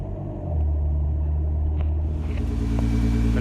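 A Nissan GT-R engine gives a deep, steady rumble up close, holding an even low drone throughout with no talking.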